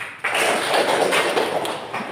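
A classroom of students claps hands together in a short, dense burst of rapid, overlapping claps, loud and close, with no talk over it.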